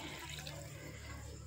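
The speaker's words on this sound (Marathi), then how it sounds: "तर आपल्याला त्यात थोडंसं पाणी ओतायला पाहिजे ना अजून." Water is poured into a pot of mutton rassa curry, a soft, continuous splashing pour under a low steady hum, faint and short.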